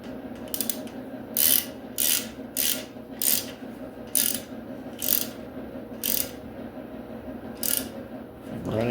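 Ratchet tightening a pipe plug into a Ford 2.3 turbo engine block during block prep, a close series of regular clicking pulls, eight or nine strokes evenly spaced, with no talk.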